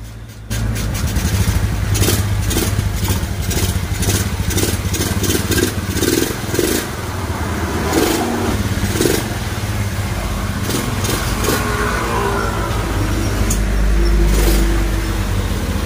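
A Honda Beat injection scooter, freshly fitted with a carburetor, starts and runs with a loud, close engine note that rises and dips with throttle blips, steady throughout without any talking.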